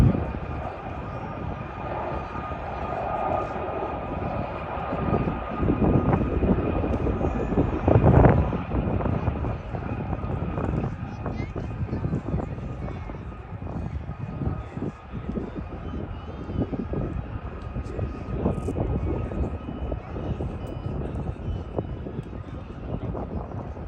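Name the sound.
aircraft flying a display at an air festival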